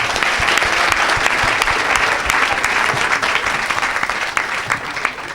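A congregation applauds loudly and steadily, dense clapping filling the room without a break.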